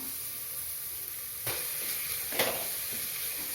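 Onions frying in a pan for mutton curry, a quiet steady sizzle broken by two distinct stirring scrapes about a second apart, heard close with no talking.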